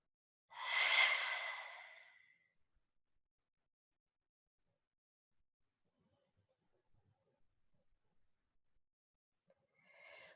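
One deep exhale during a balance exercise rushes out close and clear, then fades into near silence. Faint small movements follow, and another breath begins at the very end.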